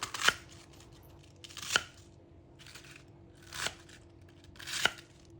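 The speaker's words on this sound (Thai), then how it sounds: "จากนั้นเอากระลำปีมาหั่นครับ" Four separate crisp, crunchy cuts land at uneven intervals, like a knife slicing through firm cabbage, with quiet pauses between them.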